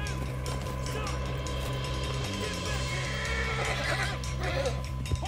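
Horses whinny and snort in Red Dead Redemption 2, with neighs rising above the clatter of hooves and mechanical noise, and voices talking in the background.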